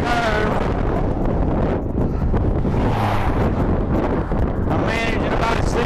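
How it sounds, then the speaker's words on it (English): Strong wind buffets the microphone while a cyclist rides along an open road across the U.S., a loud constant roaring rumble with gusting swells and no pauses. "This wind's killing me. It's gonna blow me off the road once."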